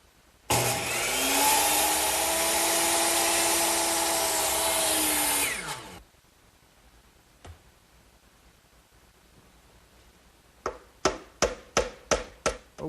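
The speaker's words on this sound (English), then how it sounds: "I'll cut these over here on my miter box, which is already set at a 90-degree angle" A power miter saw cuts through wooden molding in a workshop, whining loudly at full speed for about five seconds and then spinning down, followed by quiet and a quick series of sharp taps near the end.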